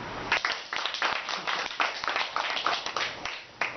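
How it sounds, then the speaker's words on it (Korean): A small group applauds at a monthly self-help meeting for people with schizophrenia, bipolar disorder and depression, a scattered, close-up patter of hand claps that keeps going steadily throughout. "자, 박수."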